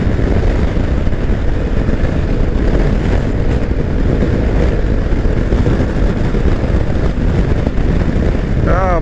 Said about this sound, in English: Bloody wind, it's shocking.